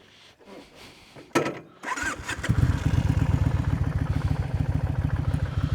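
Motorcycle engine starting up with a clattering crank, then settling into a loud, steady, pulsing idle and rev close by, ready to set off on a rural road ride on a mild day.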